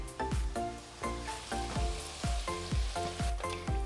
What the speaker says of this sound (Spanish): aquí ya tenemos un sartén con aceite caliente, vamos a empezar a dorar